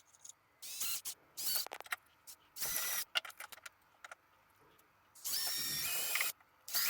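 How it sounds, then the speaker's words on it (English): A small high-pitched rotary drill whirs in several short bursts of varying length, close by, with brief scraping and clicking between the bursts. "Drilling the holes for the limbs."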